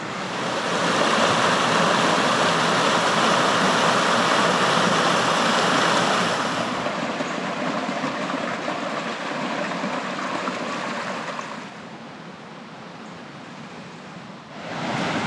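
Rocky creek flowing in bushland, a broad steady rush of water, loud and close at first, then easing and quieter as the listener moves on, with no voices.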